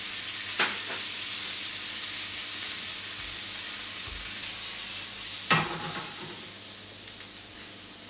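Porcini mushrooms fry in a pan with a little extra fat, giving a steady broadband sizzle throughout, with a couple of brief stirring scrapes standing out at moderate loudness and no voices.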